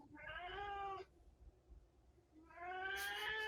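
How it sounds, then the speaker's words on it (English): A pet cat in a bedroom gives two separate, fairly quiet meows with a short pause between them; there is no talking. "That's my cat."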